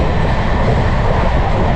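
Steady, loud rumble and rush inside a Jamnagar–Tirunelveli Express running at about 106–107 km/h on the double-track Konkan Railway line, a dense continuous roar with no voices.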